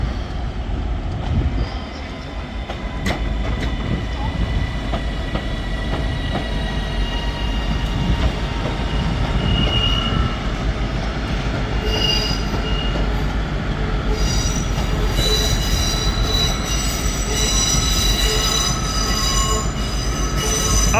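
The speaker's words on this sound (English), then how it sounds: "One of the new Northerns to Manchester Airport. Class 331. Well, that one's arriving, and one of the old stock is departing." A Northern Class 331 electric train pulls into Manchester Piccadilly, rumbling steadily up close with wheel squeal and high whining tones building toward the end, a continuous loud rail roar with no talk.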